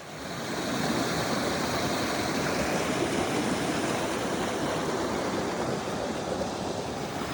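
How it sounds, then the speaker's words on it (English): Steady, rushing spring-fed stream water churns and foams continuously nearby in the Central Alaska bush, a dense broadband roar with no voices or pauses. "you can see foam there, so you know that this water's churning"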